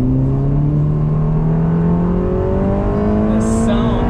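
A Ferrari Portofino M accelerates steadily, its engine note rising smoothly and loudly from start to finish with a strong, continuous tone and little else audible.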